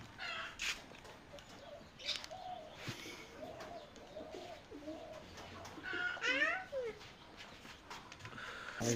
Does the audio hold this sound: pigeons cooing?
yes